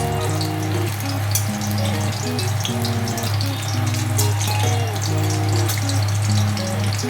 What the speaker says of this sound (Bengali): দুটো শুকনো লঙ্কা ফোড়ন দিচ্ছি।